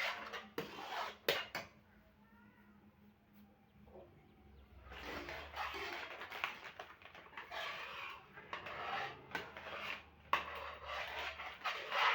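Red banana being mixed with country sugar in a bowl, with faint spoon clinks, scrapes and light clatter in a quiet kitchen.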